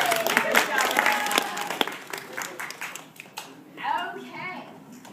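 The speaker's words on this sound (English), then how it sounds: "Give her a round of applause for being so brave." Audience applause at a live science show, a brief burst of clapping from a small crowd fading out, with a voice and other talk mixed in.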